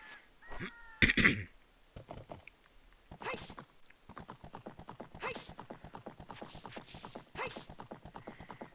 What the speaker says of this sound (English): Alright, let's climb on the horse.